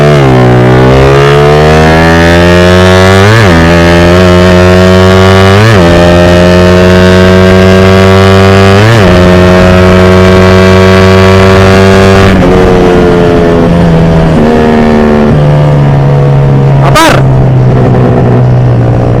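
A Honda Raider 150 motorcycle with a 28mm Keihin carburetor accelerates hard through several gears, loud and close, its engine note climbing and dropping at each shift before settling into a steadier high-speed drone.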